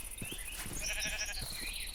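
Sheep bleating in the Minecraft video game, a few short nasal cries repeating in quick succession over layered game music and ambient tones, with no talking.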